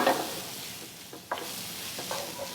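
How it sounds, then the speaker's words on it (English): Food stirred in sizzling olive oil in a pan, a soft steady fry close by, broken by a few brief spoon scrapes. "just to stir it to make sure it's coated with the olive oil"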